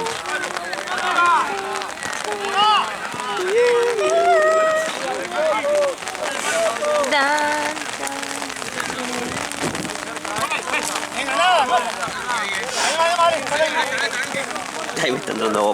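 Steady rain falls and patters on surfaces at an amateur third-division football match, a continuous wash running the whole time beneath lively, overlapping talk from people sheltering nearby.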